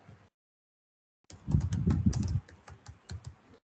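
Close computer-keyboard typing while coding: a short tap, a pause, then a quick burst of clattering keystrokes that thins into scattered individual presses before fading out, with no voice.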